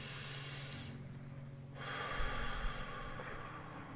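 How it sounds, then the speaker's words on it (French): One deep breath taken during a guided session, a soft drawn-in inhale followed by a longer, louder exhale and snort-like release, close and alone. "Alors, une respiration."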